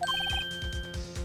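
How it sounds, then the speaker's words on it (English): Cell phone ringtone in the Phoenix Wright: Ace Attorney video game, a short electronic melody of quick repeated chirping notes playing over a low rhythmic background music loop. "I heard a phone ring just now. One of those newfangled ringtones."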